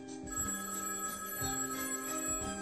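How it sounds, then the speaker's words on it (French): A telephone bell rings in repeated steady trills, close and clear, continuing through the whole stretch with no voices over it. "Le téléphone sonne."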